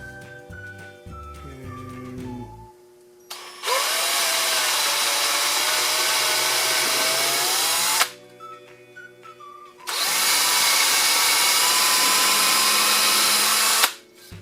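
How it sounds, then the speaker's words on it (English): A power drill with a 1/8 inch bit whines steadily at high speed in two long bursts separated by a short pause, drilling holes in wood, loud and close. "take your drill with it, the 1/8 inch drill bit"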